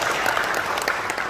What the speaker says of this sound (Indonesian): Kasih tepuk tangan untuk teman-teman semua.